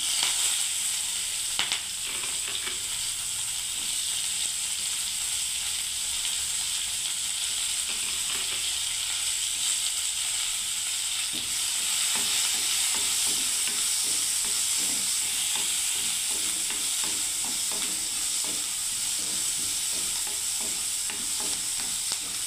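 Sliced onion and green chilies fry in hot oil in a pan for a masoor dal dish with bottle gourd, making a loud, continuous sizzle with faint scraping stirs throughout.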